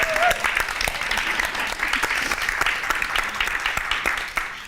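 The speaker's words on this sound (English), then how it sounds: "Let's give ourselves a warm round of applause" An audience at a spring season closing ceremony applauds warmly, a dense, steady patter of clapping hands that fills the room and carries on without pause.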